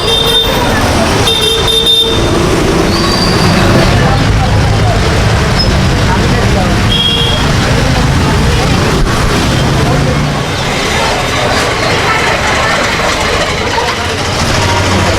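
Loud, constant street traffic in Udaipur's crowded old city, with idling engines, passing vehicles and a couple of horn toots, with voices mixed into the roar.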